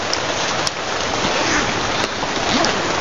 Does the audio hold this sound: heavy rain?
yes